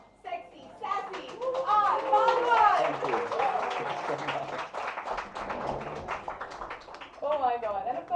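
Applause and cheering from an audience welcoming actor R Madhavan onto the stage at a health and nutrition magazine cover launch, a sustained crowd swell under an excited host's voice calling his name.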